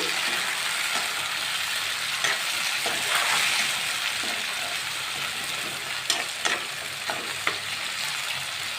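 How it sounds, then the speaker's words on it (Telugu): Chopped tomatoes for an aloo curry sizzle steadily in a pan, a continuous close frying hiss with a few sharper crackles and pops scattered through it. "వేసి టమోటాలన్నీ బాగా మగ్గించుకోండి"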